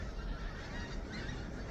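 A flying skein of pink-footed and white-fronted geese honks overhead outdoors, a faint, continuous chorus of distant calls over wind-like background noise.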